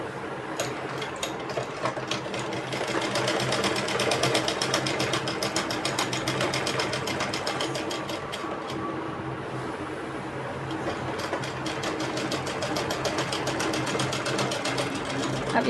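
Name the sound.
sewing machine stitching a trouser pocket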